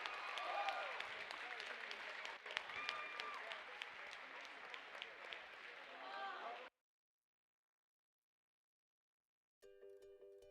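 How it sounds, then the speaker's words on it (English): A crowd at an FTC robotics tournament in Iowa applauds and cheers loudly for several seconds after a match, then stops abruptly; after a silence, a faint tonal sound begins. "Round of applause for match number 2."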